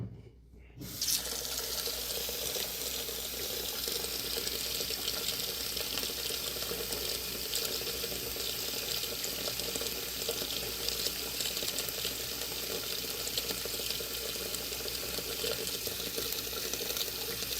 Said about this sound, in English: Continue to fill it up with water.